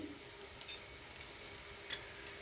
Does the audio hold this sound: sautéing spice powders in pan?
yes